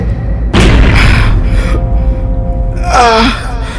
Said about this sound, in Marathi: तोफा पेटवल्या गेल्या तोफांचा आवाज बाजींच्या कानावरती पडला